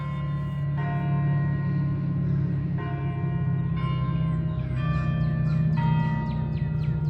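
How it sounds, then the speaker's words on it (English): Large bells at Longwood Gardens in Kennett Square, Pennsylvania ring out in a slow series of clear, resonant strikes, each tone lingering and overlapping the next over a steady ambient hum. "You can hear the bells going off once again."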